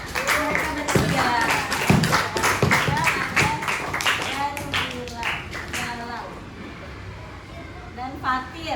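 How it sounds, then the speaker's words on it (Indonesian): A class of students clapping together in a classroom, brisk scattered hand claps in the first seconds that thin out and fade, with voices talking over and after them. "tepuk tangan untuk mereka bertiga"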